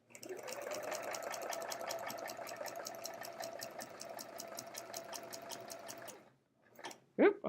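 Sewing machine quilting a large quilt with metallic thread, a close, rhythmic rapid stitching hum running for about six seconds before stopping, followed by brief handling noises.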